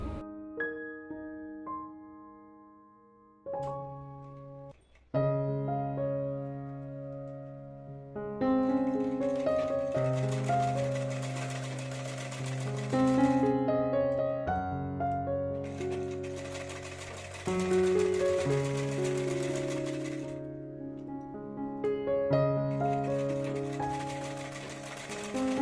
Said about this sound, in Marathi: जसा नेक आहे त्याला आपण शिलाई मारून घेऊया